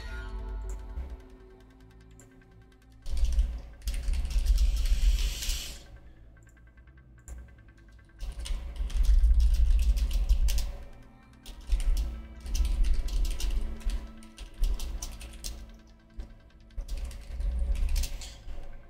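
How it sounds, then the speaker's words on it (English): A computer keyboard clatters in bursts of quick, close typing with pauses in between. It runs for about twenty seconds with no voices. "So sorry you can hear the typing."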